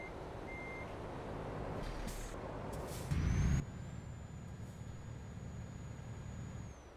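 Truck reversing beeps in the Euro Truck Simulator 2 video game, a steady electronic warning tone under engine drone, with a brief burst of air brake hiss midway.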